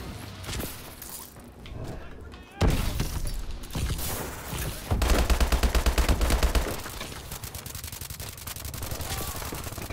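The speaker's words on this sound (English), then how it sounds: "I shot him in the knee." Gunfire in Call of Duty rings out in sharp single shots and rapid automatic bursts with crashing impacts, loud and dense over game noise, while players talk at moments.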